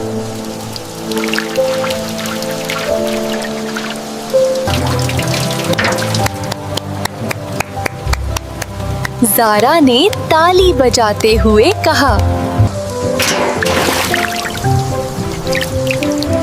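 Rain drips into a large steel bucket inside a tree house, with repeated plinking drops under a narrating voice and background music.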